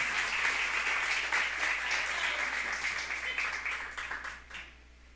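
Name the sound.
audience applauding in church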